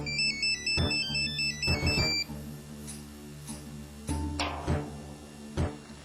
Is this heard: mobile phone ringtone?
yes